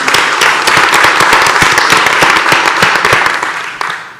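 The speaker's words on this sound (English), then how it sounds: "If we can please give him another round of applause" A crowd applauds the mayor of Atlanta at a city business event, with sharp individual claps standing out in a loud, dense burst that thins slightly toward the end.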